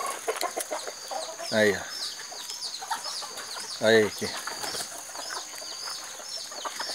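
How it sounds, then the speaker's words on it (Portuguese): Mixed-breed free-range chickens settle on a roost, giving two clear, close clucks among softer fowl chatter while someone talks over them. "Aqui, ó, no puleiro aqui, o tanto de galinha."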